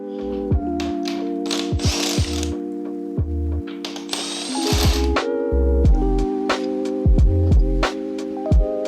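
Ratchet socket wrench working loose the main bearing caps on a Peugeot 205 MI16 engine during a rebuild, with repeated close clicking bursts and sharp metallic knocks of parts being handled, no voices.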